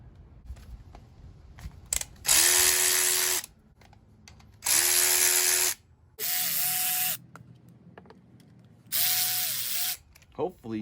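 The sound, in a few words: ratchet wrench removing brake line on Dana 44 axle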